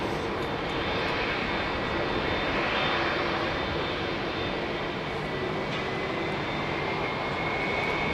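A jet airliner roars loudly and steadily as it departs Heathrow Airport in the evening, a constant broad engine rumble that fills the whole stretch with no talking.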